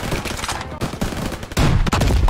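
Bursts of rapid gunfire in the Call of Duty WW2 video game, dense overlapping shots crackling in quick volleys with a brief gap before a louder final flurry.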